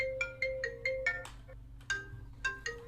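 Phone ringtone in the video game Saints Row IV, a repeating electronic melody of short bright tones ringing several times in quick bursts, loud and close with no talk.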